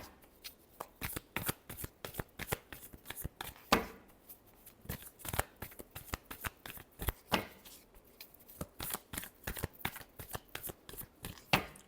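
Tarot cards are shuffled close up in quick, crisp riffles and slaps, with many sharp bursts repeating in an uneven rhythm against a quiet room.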